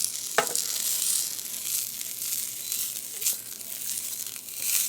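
A dry-aged pork chop goes fat side down into a hot, oil-free non-stick pan, and a loud, steady sizzle follows close up, with a brief clatter near the start.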